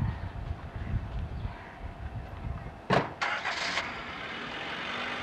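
A car engine cranks and catches about midway as the driver pulls off in a 1992 home-video scene, a short loud burst over a steady background rumble, with voices nearby.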